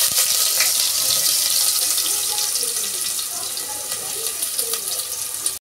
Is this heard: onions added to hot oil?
yes